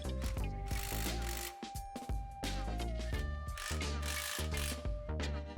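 A hand ratchet clicks repeatedly in quick bursts while tightening sway bar hardware to the frame of a 2011-2018 Ford F-250/F-350 4WD truck, loud and close with brief pauses between strokes.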